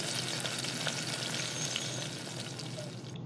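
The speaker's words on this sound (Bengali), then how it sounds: "আস্তে একটা করে আমরা ফ্রাই করে নিচ্ছি" Fish pieces frying in hot oil, a dense, steady sizzle crackling without pause, close and fairly quiet.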